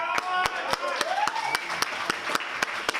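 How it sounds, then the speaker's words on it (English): Applause from a Libertarian Party gathering greets a state legislator, with sharp distinct claps standing out near the microphone over a softer crowd clapping and a murmur of voices. "Let's give him a round of applause."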